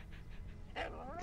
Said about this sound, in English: Look at the little cute doggy.